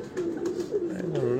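Pigeons on a Lahore rooftop give soft, close, repeated coos, with a voice talking alongside.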